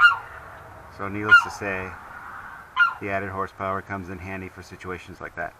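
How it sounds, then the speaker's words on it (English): A pet goose honks repeatedly in the background, a string of nasal honks and clucks while someone talks over it. "That noise you hear in the background is my goose."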